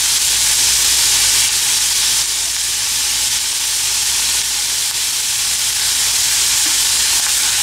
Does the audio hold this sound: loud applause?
no